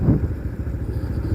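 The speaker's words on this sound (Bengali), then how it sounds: "বাইকের স্টার্ট বন্ধ রাখি নাকি?" A motorcycle on a mountain road trip in Bandarban idles with its engine running, a steady, loud, close low rumble with an even throbbing pulse throughout.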